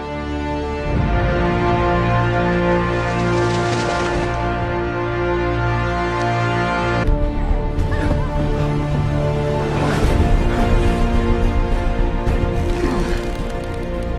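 The theme from the earlier Dark Knight films plays as a dense orchestral score, with sustained brass and strings swelling loudly throughout and a change of section midway, no voices.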